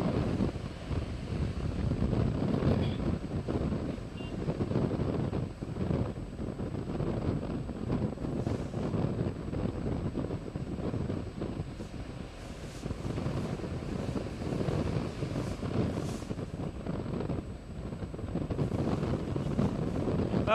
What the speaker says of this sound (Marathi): माझ्या मागे जर आपण पाहिलं तर मोठ्या प्रमाणात या लाटा उसळत असताना हा संपूर्ण मरीन ड्राईव्हचा सगळाच परिसर आहे